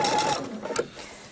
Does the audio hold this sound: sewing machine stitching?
yes